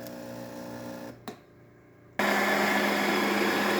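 An espresso coffee grinder on setting 21 hums, falls quiet briefly after a click, then starts grinding test coffee loudly and steadily, close and alone.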